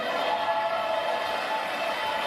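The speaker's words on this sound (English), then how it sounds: "Everyone in the room stood and clapped." Crowd noise from a roomful of people at a Trump speech, standing and clapping; a steady, dense wash of applause and murmur fills the space evenly throughout.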